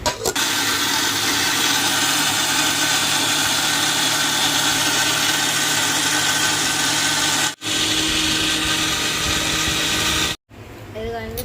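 A wet grinder steadily grinding soaked urad dal into flour, a loud continuous mechanical whir that runs nearly unbroken, with a short dip partway and a brief cut near the end.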